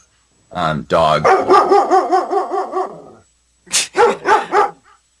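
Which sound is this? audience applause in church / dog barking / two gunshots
dog barking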